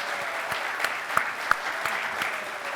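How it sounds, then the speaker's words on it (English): A room of members at a Corvette museum anniversary gathering gives a steady round of applause, moderately loud and even throughout with a few sharper claps standing out. "So a little round of applause for all of our volunteers."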